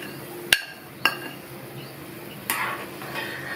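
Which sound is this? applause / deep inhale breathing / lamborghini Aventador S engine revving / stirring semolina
stirring semolina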